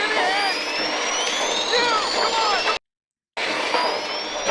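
A jet engine roars with a loud, high whining drone and shifting tones. It cuts out abruptly for a moment before the roar resumes.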